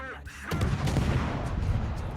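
Naval gun salvo in the World of Warships game, fired from a Shiratsuyu destroyer: a sudden loud boom opening into a sustained rumbling roar of gunfire that carries on for the rest of the short clip.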